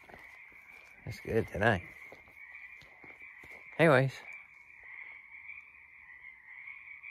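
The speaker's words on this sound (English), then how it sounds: "Listen to the frogs." Frogs croak loudly at night outdoors, a couple of close rapid rattling calls in quick succession then another burst, over a steady insect-like drone, with a person talking briefly.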